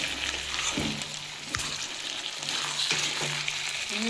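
Chicken fries in a pan with a whole garlic bulb added, filling the space with a steady close sizzle and a few light knocks and scrapes of stirring.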